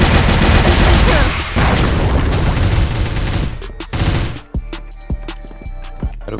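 A grenade blast in the online shooter CrossFire, a loud boom amid rapid gunfire that fades into scattered single shots and clicks, with a voice at the start.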